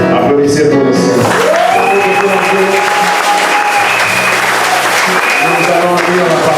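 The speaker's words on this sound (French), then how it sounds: "Applaudissez pour le Seigneur." A church congregation applauds continuously, dense clapping with voices speaking and singing over it throughout.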